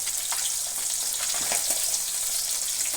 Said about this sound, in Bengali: পাবদা মাছ কি তেল ছিটছে আমার মনে পুড়ে যাচ্ছে সারা গা হাতটা এত তেল ছিটছে